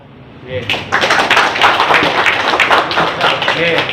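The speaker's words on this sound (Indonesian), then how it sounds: "Tepuk tangan." Hands clapping at a seminar in a hotel as a crowd joins an anti-drug chant, a burst of rapid claps starting about half a second in and continuing loudly under nearby voices.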